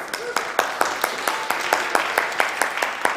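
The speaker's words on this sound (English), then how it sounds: "Give yourselves a round of applause." Scattered applause from a church congregation at a Christmas Eve afternoon service, with sharp individual claps repeating at a fairly regular pace over a steady background murmur.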